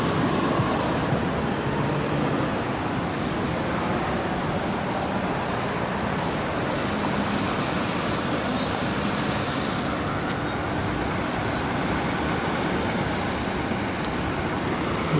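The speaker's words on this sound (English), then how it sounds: "cars, trucks, and buses are coming up behind them on the same pavement" Dense street traffic of cars, trucks and buses rolls past on a busy Seattle road, a loud continuous roar with no breaks and no voices.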